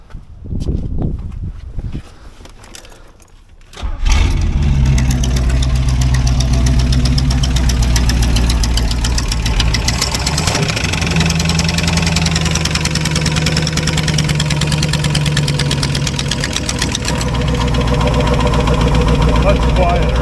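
A C4 Corvette engine fires up after a short cranking, then settles into a loud, steady, close rumbling idle that runs throughout, with a voice speaking briefly before the start.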